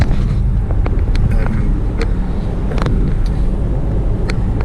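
A car drives along a road in Scotland, coming in from the Stirling and Falkirk direction. A loud, continuous rumble of engine and tyre noise holds steady throughout with no voices.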